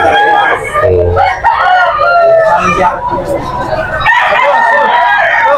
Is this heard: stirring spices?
no